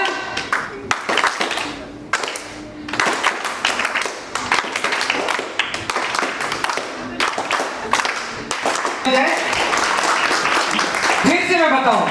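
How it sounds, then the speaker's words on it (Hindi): An audience at the Taal Tarang 2025-26 event in Ayodhya division clapping together in a steady rhythm, with many hands close and loud. A voice speaks over the claps, and they swell into denser applause near the end. "सिर्फ 2 ताली बजेगी।"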